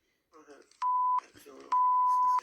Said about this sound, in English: the beeps are just so impersonal and harsh